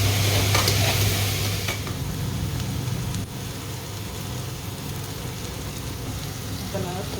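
Beans poriyal sautéing in a pan, a steady close sizzle with stirring scrapes that holds fairly loud throughout, easing slightly partway through.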